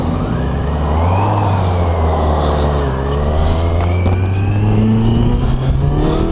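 A 2016 Kawasaki Versys 1000 motorcycle accelerates hard through the gears, its engine note climbing in pitch, dropping at a shift and rising again, loud and close, with no voices.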